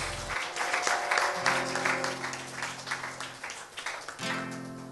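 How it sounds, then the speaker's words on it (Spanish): A church congregation claps loudly and steadily in praise during a worship service, a dense, sustained round of applause with a low instrumental hum beneath it throughout. "Dale ese aplauso más fuerte al que vive y reina por los siglos de los siglos"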